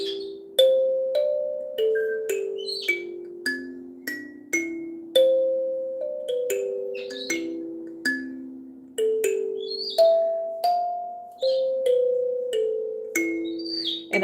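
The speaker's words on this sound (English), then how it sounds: "something as simple as just random notes on a kalimba" Slow, random plucked kalimba notes ring out one after another, each chiming and fading like wind chimes, with faint bird chirps in the background.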